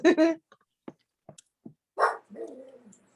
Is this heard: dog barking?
yes